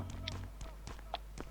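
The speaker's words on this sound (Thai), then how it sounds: "นี่เสียงเท้ามาปะ" Footsteps in the survival game Last Island of Survival: a quick series of light taps at a steady running rhythm, faint and fairly close, with a voice speaking over them.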